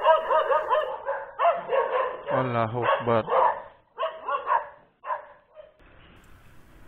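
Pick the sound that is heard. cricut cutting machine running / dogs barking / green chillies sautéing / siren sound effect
dogs barking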